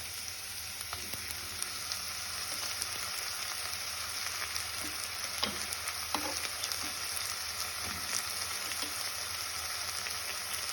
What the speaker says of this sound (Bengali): এবারে আমি এর মধ্যে দিয়ে দেবো কাঁচা লঙ্কা আদা রসুন বাটা